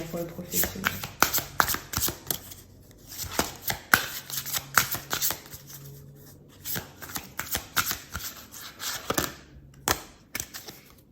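A deck of cards shuffled by hand in repeated quick riffles and snaps, close and crisp, with a short break partway through and then more shuffling toward the end, under a woman's soft speech.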